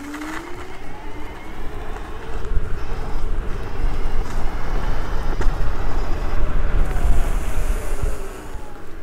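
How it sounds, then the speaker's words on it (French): Wind blowing past a rider on a Dualtron Achilleus electric scooter, a steady rushing roar that builds and stays loud, with faint road rumble underneath. "Avec le vent qui souffle en plus,"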